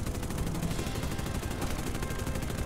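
Aircraft guns in the video game War Thunder fire in a dense, continuous rattle, loud and sustained over a steady roar for the whole stretch, with no talking.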